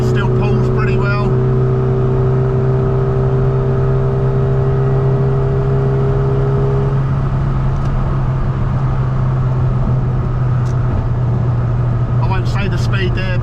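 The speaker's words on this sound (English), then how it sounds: "it's quite comfortable to overtake cars that are doing 70 miles an hour without making the engine scream too much" A Mini Cooper S Sport 5 engine pulls steadily in fifth gear while overtaking at motorway speed, a loud continuous low drone with rising whine and road roar inside the cabin, brief talk at the start and end.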